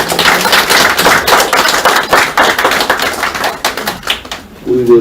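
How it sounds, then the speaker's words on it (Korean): A room of attendees at a Korean political party meeting claps in applause, a loud, fairly close run of rapid hand claps that thins toward the end, with a brief voice at the close. "큰 격려의 박수 부탁드립니다."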